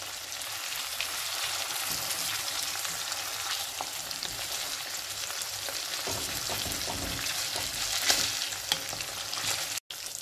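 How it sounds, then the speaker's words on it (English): Katla fish fillets fry in hot oil in a pan, giving a steady, close, dense sizzle with faint crackles and a brief clatter near the end, with no voices. "we need to fry it on either side for 2 minutes"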